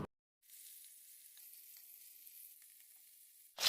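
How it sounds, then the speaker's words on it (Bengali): Hilsa fish pieces coated in salt and turmeric frying in hot mustard oil, a soft, even high sizzle that starts after a moment and holds steadily, fairly faint and close, with no voices. "কড়াতে সর্ষের তেল গরম করে নিলাম। এবারে এক এক করে ইলিশ মাছগুলো দিয়ে দেব। নুন হলুদ মাখানো ইলিশ মাছটা হালকা হাতে ভেজে নেব।"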